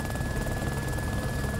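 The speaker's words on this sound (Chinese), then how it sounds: "那个直升机连着过来了" A helicopter approaches in the video game DayZ as a steady, dense rotor and engine roar with a faint high whine, continuous and fairly loud throughout.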